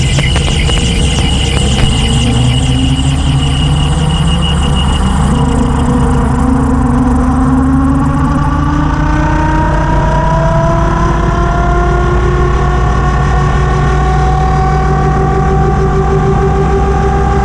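A gyrocopter engine climbs steadily in pitch as power comes up during its takeoff roll on a runway, with loud, continuous drone and rising tones throughout.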